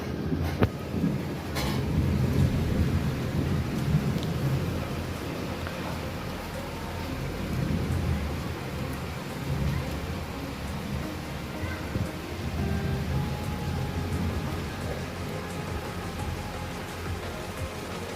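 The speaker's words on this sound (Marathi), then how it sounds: "खतरनाक पाऊस यायला लागला बघू शकता तुम्ही माझ्या मागे" Heavy rain pours down in a dense, steady roar that swells and eases slightly, heard close by with no clear voices.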